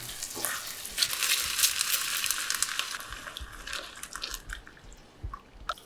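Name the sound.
cream added to hot brandy reduction in pan, sizzling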